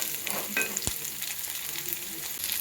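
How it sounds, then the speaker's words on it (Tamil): Cleaned adamant creeper (pirandai) sautés in oil for a pickle, giving a constant close sizzle with a sharp scrape of a spoon partway through. "சேர்த்து பிரண்டை கலர் மாறுற வரைக்கும் வதக்கணும் நல்லா."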